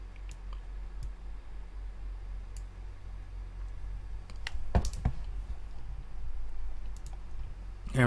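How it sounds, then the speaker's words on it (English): Computer mouse and keyboard clicking during video uploads, a few faint isolated ticks over low steady hum, with a brief cluster of louder clicks midway. "if you hear clicking, that's me uploading videos"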